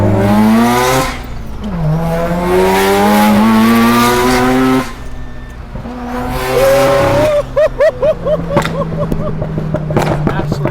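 A turbocharged Mazda RX-7 FD sports car driven hard on a mountain road revs through rising gear pulls, then drops and climbs again with sharp throttle blips and crackles, loud and close.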